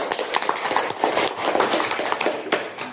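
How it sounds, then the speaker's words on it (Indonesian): A classroom of students claps for a group that has just presented, brisk, dense hand clapping close by, continuing evenly for the whole moment without speech over it. "Sekarang kita beri tepuk tangan untuk kelompok 1."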